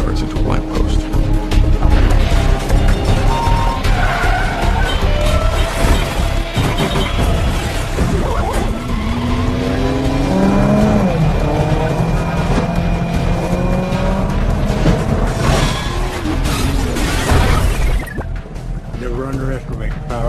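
A car speeds through a movie chase with tires squealing in rising and falling screeches over a loud, steady engine roar, with voices talking over the action and the din cutting off near the end.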